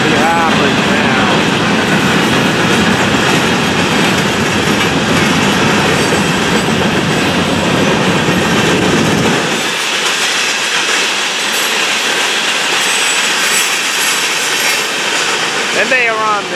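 Florida East Coast freight train hauling empty hopper cars rolls past nearby with steady rumbling wheel clatter, the low roar dropping away after about nine seconds into lighter rail noise and a brief wheel squeal at the end.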